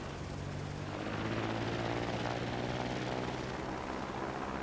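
A biplane engine from the Trailmakers game drones in a steady, dense propeller hum during a test flight, loud and unbroken throughout, with no talk.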